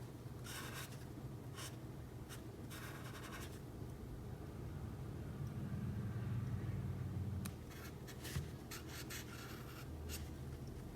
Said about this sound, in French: Pour la couleur, on commence avec du jaune pour colorier toutes les parties qu'on a là